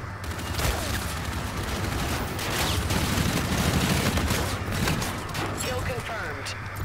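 Repeated shotgun blasts in a first-person shooter game ring out loud and close amid dense battle noise and a continuous low rumble for the whole stretch, with game voices mixed in.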